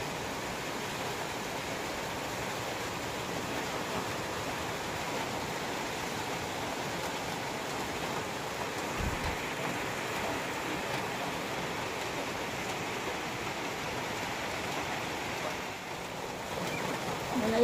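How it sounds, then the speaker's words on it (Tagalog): Heavy rain pours steadily as a dense, even hiss that runs unbroken throughout, fairly soft and distant, with no voices. "Ang lakas ng ulan."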